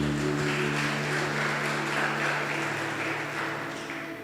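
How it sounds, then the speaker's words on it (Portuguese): A church congregation applauds in a steady, moderately loud wash of clapping over sustained low tones, likely music, fading gently toward the close. "Dê uma salva de palmas para Jesus"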